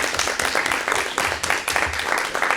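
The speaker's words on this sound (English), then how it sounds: "And yes, you can clap for that" Audience at a school board meeting clapping, close and fairly loud, in uneven bursts of claps with a pulsing rhythm, with some voices mixed in.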